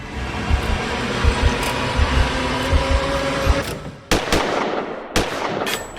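Gunfire effects in a short-film gun scene: a few sharp, loud shots crack out near the end, after a dense, rumbling stretch with rapid thumping pulses.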